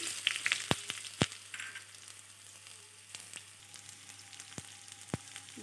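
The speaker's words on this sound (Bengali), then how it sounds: "এবার ওই তেলে আমি টুকরো করে রাখা আলুটাকে প্রথমে ভেজে নিচ্ছি" Potato pieces frying in oil in the same oil that lentil badis were fried in, a faint, crackly sizzle broken by several sharp clicks from a spatula or pan.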